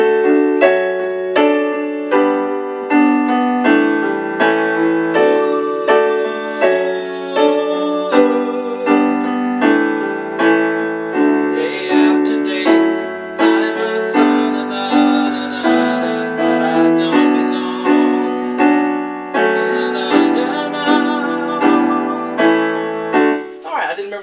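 Piano playing a song, with steady rhythmic chords and a melody line rolling on continuously at a bright, clear level and no voices.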